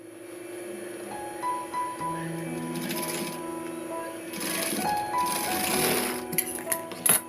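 A sewing machine stitches a foam fabric bag, its steady motor whir running in continuous bursts with brief pauses between seams, close and moderately loud.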